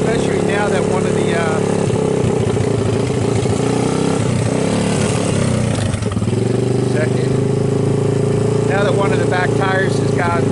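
Honda ATC200 three-wheeler with a low back tire, riding through snow: a steady, loud small-engine drone holds for the whole stretch, rising slightly, with a voice talking over it.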